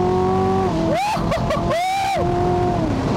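A sports car's engine revs up through rising harmonic sweeps with brief gear-change dips, loud and close, continuous over about three seconds with no talk.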